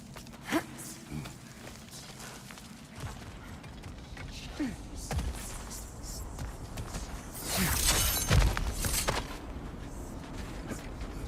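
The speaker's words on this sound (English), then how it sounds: "A door." Door mechanism in God of War Ragnarök grinding and creaking open with gear-like ratcheting, swelling louder near the end over ambient game sounds and brief voice bits.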